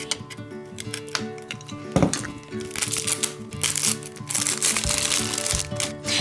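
Crinkly plastic wrappers on a toy capsule are cut open, giving close, irregular crinkling and snipping sounds with small clicks and rustles.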